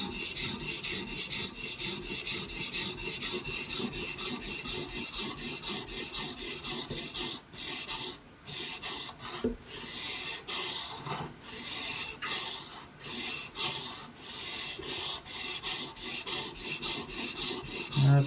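A Benchmade Bushcrafter 162 knife is drawn across a Hapstone sharpening stone in steady, rhythmic rasping strokes, close and crisp, with brief pauses between runs and no talking.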